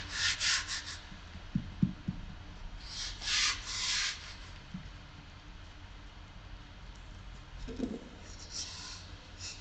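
Resin is rubbed by hand into a fiberglass fuselage mold, producing soft intermittent scrubbing and rubbing strokes in short bursts with quiet gaps and a few light knocks, close and fairly faint.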